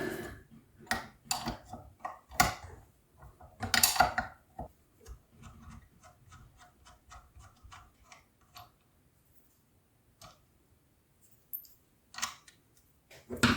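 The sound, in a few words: removing the ground wire from a Volvo BM 500 starter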